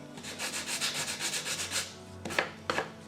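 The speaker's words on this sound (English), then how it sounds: "I want to scratch it up a little bit with my sandpaper" Sandpaper rubs back and forth over purple-painted wood in a quick run of about a dozen close, rhythmic strokes, then pauses before two final sharper scrapes.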